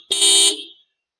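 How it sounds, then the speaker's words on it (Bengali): A Yamaha R15 motorcycle sounds its dual-tone double horn in one short, loud blast of under a second that cuts off cleanly, with no talk. "এটার ক্ষেত্রে হর্নটাও আপনাদের শুনিয়ে দেবো, ডবল হর্ন যদিও বা আপনারা এই গাড়িতেও পেয়ে যাবেন"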